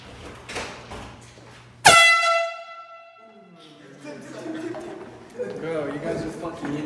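An air horn blasts once loudly in a drive-thru prank, a sharp sustained honk that rings out and decays, with voices talking before and after.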